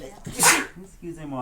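A single sharp sneeze bursts out close and loud, with people talking just before and after it.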